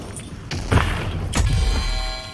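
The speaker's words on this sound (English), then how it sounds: "I dropped two bounce nades on my body" Two dull thumping blasts from bounce grenades in Rogue Company, about a second apart, heavy and low, with game noise around them.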